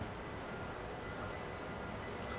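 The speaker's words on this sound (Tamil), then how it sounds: "நீங்கள் பார்க்கலாம் ட்ரெயின் நம்ம கிளம்பிட்டோம்." Train departing in the Train Sim World 4 game, a steady, dense rumble of rolling rail noise with a faint high whine, continuous and moderately loud throughout.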